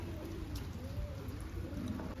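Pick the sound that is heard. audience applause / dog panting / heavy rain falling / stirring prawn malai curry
heavy rain falling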